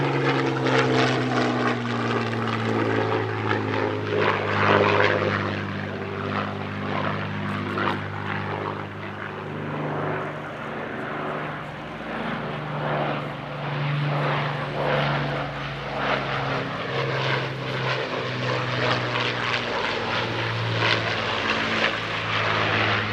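A Spitfire flies at the Midlands Air Festival airshow, its steady propeller-engine drone holding loud and close for the whole stretch, with the low tone shifting gradually in pitch as the aircraft passes.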